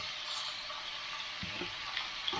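Leeks fry in a pan for a spinach and feta stir-fry, giving an even, moderate sizzle with a few soft stirring knocks near the end and no talk over it.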